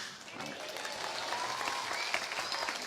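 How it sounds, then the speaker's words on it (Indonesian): Steady applause from an audience at an Islamic religious lecture, a dense wash of clapping that holds at an even level throughout with no voices rising above it. "Tepuk tangan telat."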